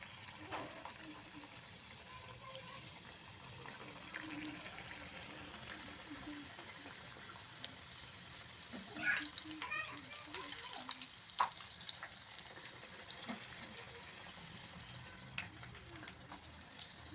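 Sweet semolina dough pieces deep-fry in hot oil, a faint steady bubbling sizzle with occasional soft splashes and clinks as pieces are added and moved.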